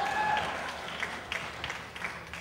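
A comedy show crowd claps on request from the MC, a fairly quiet, brief spatter of applause with a few louder individual claps standing out, fading a little toward the end.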